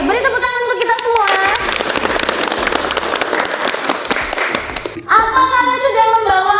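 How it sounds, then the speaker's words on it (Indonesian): A burst of enthusiastic clapping and applause from a group, lasting a few seconds, with voices chattering before and after. "beri tepuk tangan untuk kita semua"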